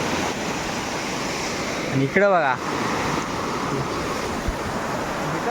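Flood water from torrential Konkan rain rushes with a loud, continuous roar, and a voice speaks briefly over it partway through.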